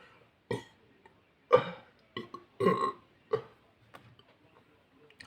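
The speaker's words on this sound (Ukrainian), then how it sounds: "Це називається, коли п'єш Кока-Колу, можна влаштувати конкурс на відрижку." Loud burps after drinking Coca-Cola, several separate guttural belches in a row with short pauses between them, close up.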